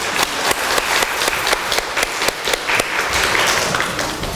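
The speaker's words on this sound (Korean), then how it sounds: "잠시 일어나시면 우리가 박수로 환영하도록 하겠습니다." A church congregation applauds together to welcome a guest at a 115th anniversary thanksgiving service, a loud, dense, sustained round of clapping with rhythmic surges, close and filling the room.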